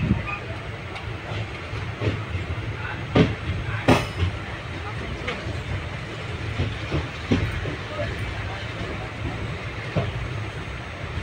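The Mannai Express rolls into Tiruvarur Junction with a steady low rumble, scattered clanks and clicks of wheels on rail joints, and a few sharper metallic knocks, with people talking faintly nearby.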